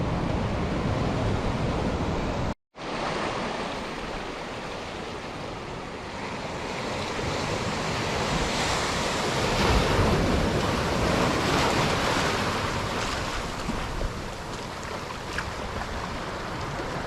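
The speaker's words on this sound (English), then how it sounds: "So it's obviously getting close to high tide. The waves rolling in." Ocean surf rolling in near high tide at Pender Bay, Australia, a loud, continuous wash of breaking waves with wind noise throughout and one brief dropout near the start.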